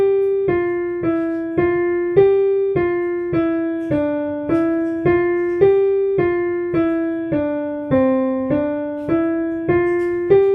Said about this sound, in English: The descending additive pentatonic scale sounds like this.